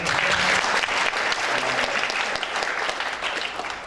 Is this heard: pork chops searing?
no